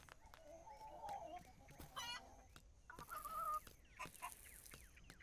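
Chickens in the farming video game Dinkum cluck and squawk in short repeated bursts over a soft game ambience, faint and without talking.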